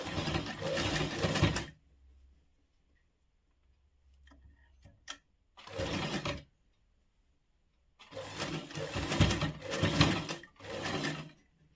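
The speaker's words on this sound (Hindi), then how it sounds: "इसे हमने सिलना शुरू किया" A sewing machine stitches a pleated jhalar frill in quick close bursts of rapid mechanical whirring, separated by pauses with faint clicks of handling.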